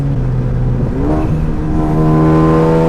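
A straight-piped, meth-injected 350bhp Ford Focus ST engine revs loud and close, its droning harmonics dipping briefly and then climbing steadily as the revs rise, with no talking over it.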